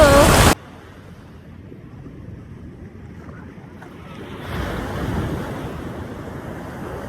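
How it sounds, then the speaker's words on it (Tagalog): Sea waves wash in at high tide on a beach in Barangay Omawas, Maydolong, Eastern Samar, heard as a low, steady roar with gusty wind buffeting the microphone, swelling louder toward the end after a brief loud burst at the start. "nagha high tide na po guys, kaya ang tubig ay lumalaki na or medyo lumalaki na po at pati yung mga alon ay medyo lumalaki na din po"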